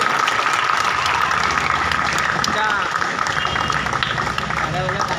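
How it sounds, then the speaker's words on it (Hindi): Sustained applause from an audience at a certification and honour ceremony in Surat, with a steady dense wash of clapping throughout and faint voices mixed in. "जोरदार तालियां होनी चाहिए"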